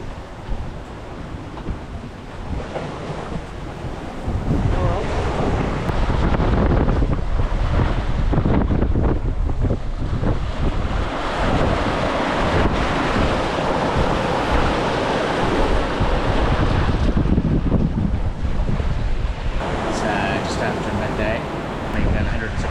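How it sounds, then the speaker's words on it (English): Strong wind of around 30 knots roars over the microphone while ocean waves surge and wash against a sailing boat crossing the Coral Sea, a loud continuous rush with no break throughout. "the wind's probably still around the 30 knot mark average"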